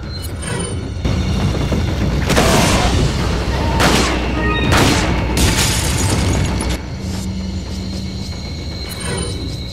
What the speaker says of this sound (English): let's use a flash grenade